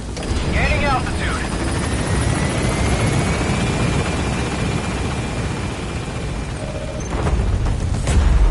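A helicopter in Metal Gear Solid V: The Phantom Pain lifts off with a loud, continuous rotor and engine roar, with game sound effects and clanks on top.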